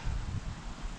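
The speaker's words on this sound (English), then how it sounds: "Getting kind of windy out here" Wind blows outdoors around a bonsai work area, a low rumbling buffet across the microphone with faint rustling, steady and unbroken for the brief moment.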